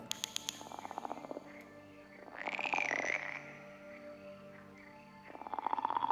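A frog in the video game Pre Dusk gives rapid, rattling croaks in short pulsed bursts, with a longer, rising whine-like call in the middle, heard close and alone against a soft background hum.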